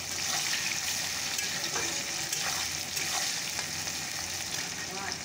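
Onion, garlic and tomato fry with meat in a hot pan, giving a constant loud sizzle with bursts of stirring scrapes and no talk over it.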